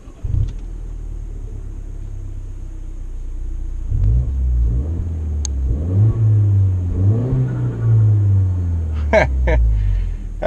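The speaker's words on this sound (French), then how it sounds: "Ouais, ça fait un joli petit bruit avec la ligne d'échappement là." A Peugeot 208 GTI 30th starts with a short burst, then settles into a deep idle and revs a few times, its exhaust rumbling close and loud, with a sharp clack near the end.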